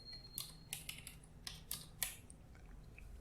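Quiet typing on a computer keyboard, a run of soft, irregular key clicks in small bursts over low room hum, fading out near the end with no voices.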